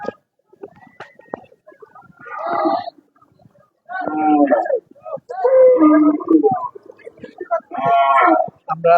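Cattle moo repeatedly at a livestock market before Eid al-Adha, long drawn-out lowing calls spaced a second or two apart, loud and close, with some faint background noise.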